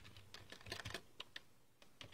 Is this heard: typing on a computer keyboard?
yes